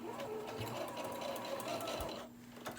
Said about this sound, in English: I'm gonna go to my machine really fast and I'm gonna sew a stitch right across here.